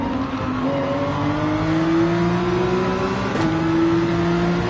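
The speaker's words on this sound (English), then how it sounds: "Pretty hard to ignore the sound of the Lamborghini here." Lamborghini GT3 race car engine in Gran Turismo 7 at Trial Mountain, a loud, close, sustained drone with a smoothly rising pitch as the car accelerates, a brief shift break, then climbing again.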